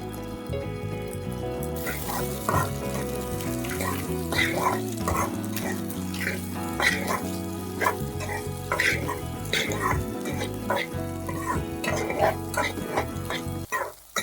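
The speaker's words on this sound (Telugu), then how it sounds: "2 స్పూన్లు కారం, రుచికి సరిపడా ఉప్పు వేసుకొని కలబెట్టుకోవాలి." Egg fried rice mixture being stirred in a pan after chili powder and salt go in, with repeated scraping and clattering strokes over a low background hum and sizzle, and some tonal noise underneath.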